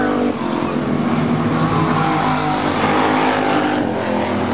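Thunder Cars race cars roar around an oval track during a feature race, a loud, continuous engine drone with shifting revs and passing cars close by.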